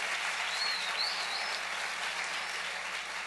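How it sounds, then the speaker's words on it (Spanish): Congregation applause during a church sermon, a continuous, evenly sustained wash of clapping at moderate volume, heard from a distance with a faint chirp briefly above it. "Denle un aplauso al Rey bendito"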